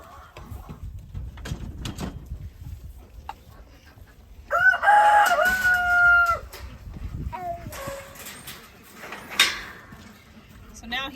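Chickens crow and cluck amid shuffling and handling noises on a farm, with a rooster's loud crow rising in the middle while people talk nearby.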